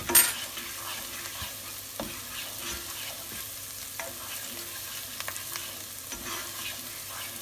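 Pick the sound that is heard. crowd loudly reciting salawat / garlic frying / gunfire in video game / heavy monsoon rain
garlic frying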